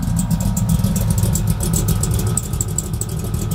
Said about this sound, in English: Can hear an electric fuel pump.